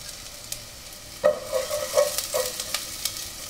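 Chopped garlic sautés in hot oil for pork monggo, a soft sizzle beneath several close metallic scrapes and clinks of a utensil stirring the pan, brief and without voices.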